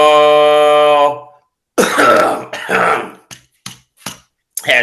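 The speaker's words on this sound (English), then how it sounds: "Had to clear my throat" A sustained voiced tone gives way to a series of harsh, rasping throat-clearing bursts, growing shorter and sharper, close to the microphone.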